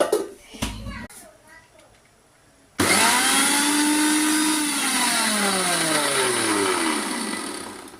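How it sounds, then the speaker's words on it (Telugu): A mixer grinder starts abruptly and runs loudly and steadily, its whirring motor pitch dipping and rising as it grinds, after some brief quiet talk. "తర్వాత మిక్సీ పట్టేసుకోవాలి."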